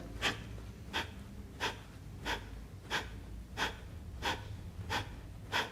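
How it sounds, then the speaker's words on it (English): Rapid Breath of Fire breathing exercise: a steady train of forceful, evenly spaced nasal exhales, about one every two-thirds of a second, close and moderately loud over a low background hum. "it generally is quite a fast-paced breath. So you exhale belly in."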